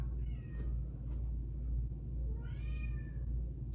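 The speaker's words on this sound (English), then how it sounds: "Can you hear my cat?" A cat meows twice, a short cry and then a longer drawn-out one, fairly quiet against a low steady hum.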